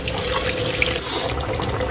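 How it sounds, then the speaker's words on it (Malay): Water poured into a cooking pot of spiced chicken ungkep, a brief close splashing pour running steadily for a couple of seconds with no voices. "Masukkan sedikit air."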